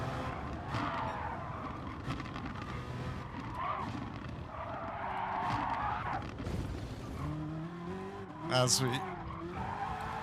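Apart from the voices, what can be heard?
GT3 race car tires skidding at Mount Panorama, racing video game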